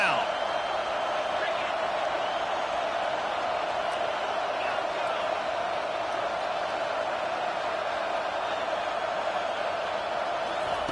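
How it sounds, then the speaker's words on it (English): A home stadium crowd roars steadily through a college football third down, a dense continuous wash of cheering and noise lasting throughout at even loudness. "Here comes this home crowd as the defense tries to get off the field on 3rd down."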